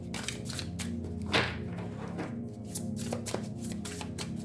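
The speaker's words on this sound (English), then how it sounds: "I was still shuffling to get another message" Tarot cards are shuffled by hand in a quick, continuous riffle and slide, with dense crisp flicks and a few sharper snaps, close and fairly loud, no voices.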